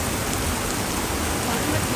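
Heavy rain pours down during a cloudburst in the main market of Narayanbagad, Chamoli district, Uttarakhand, a dense, steady hiss of falling water filling the whole moment with no pause.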